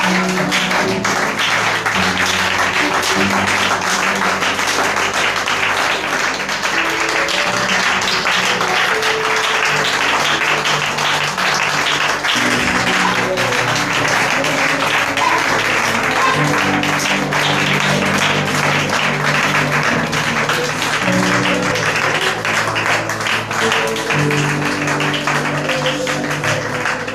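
A church congregation at a missionary service applauds in sustained, dense clapping that runs continuously, loud and close, with music or background sound underneath.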